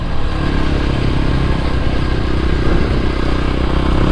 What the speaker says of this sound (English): There's no modes to set on this bike,